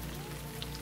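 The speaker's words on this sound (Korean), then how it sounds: "갑자기 비가 내리기 시작을 하는데" Steady rain pours onto a surface in a horror story, a dense continuous patter of raindrops with no voices, loud and close throughout the short stretch.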